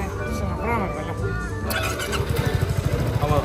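A motorcycle engine idles and putters close by with a steady rumble and quick pulsing beats, while people talk over it.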